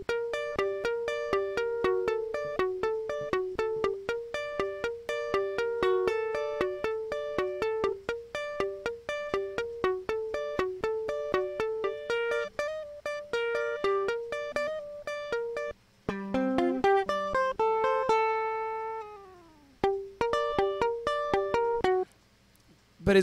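Several parts of a bachata remix played together: a bright, plucked melodic pattern over steady rhythmic percussion, looping continuously with a brief break near the end.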